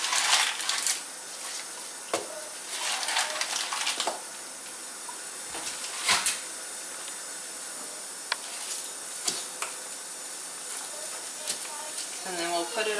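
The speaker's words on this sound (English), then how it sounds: "So I'm just using filtered water. And I'm going to fill it up as high as I can." Filtered water runs from a kitchen tap into a pot, a steady broadband hiss and splash with a few clinks and bumps of the pot, filling continuously for several seconds; no talking.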